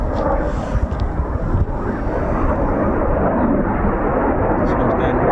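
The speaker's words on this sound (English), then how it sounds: "Embraer coming in as well" An Embraer jet arrives at RAF Coningsby, its broad engine roar steady and loud, with wind buffeting the microphone.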